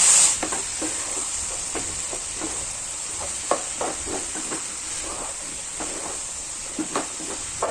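Vegetables with salt and turmeric for aviyal are stirred in a pan. A spoon scrapes and taps repeatedly over a constant sizzling hiss, with no talking.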